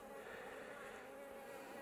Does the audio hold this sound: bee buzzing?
yes